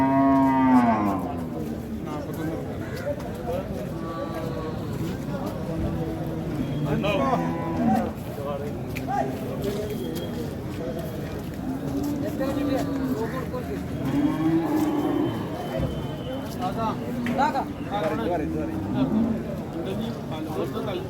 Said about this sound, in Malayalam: ഈ വെളുത്ത പോത്തിനെ കച്ചവടമാക്കുന്ന ദൃശ്യമാണ് നിങ്ങൾ